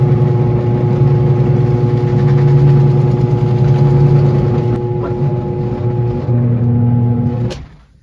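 A spinning polishing machine works on car paint with a steady, loud humming motor drone close by, holding even for several seconds before winding down and cutting off.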